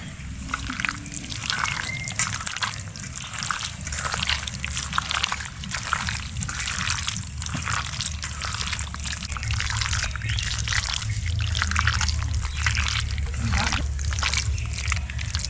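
Mustard oil is poured over marinating duck meat mixed with garlic paste, chili paste, salt and turmeric, giving a steady close liquid splashing and trickling that continues throughout.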